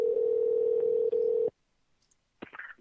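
A loud, steady telephone dial tone on a phone line holds for about a second and a half, then cuts off, followed by silence and a brief faint rustle.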